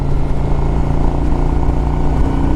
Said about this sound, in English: I'm cruising, you know, 55 miles an hour right now